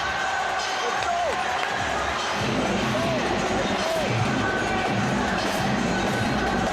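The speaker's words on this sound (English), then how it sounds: "This crowd has turned this into a party." A packed arena crowd at a women's boxing match roars and cheers continuously, loud and sustained, with a commentator talking over the noise.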